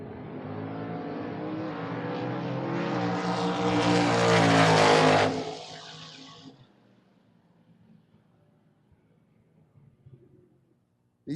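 A station wagon and a Camaro launch side by side down a drag strip, a loud, rising engine roar that builds over several seconds, then drops off abruptly and fades into distant rumble and quiet.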